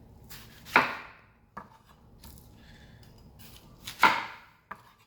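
A knife chops through a red onion on a cutting board, giving two sharp, loud strikes about three seconds apart, with lighter taps and rustling in between.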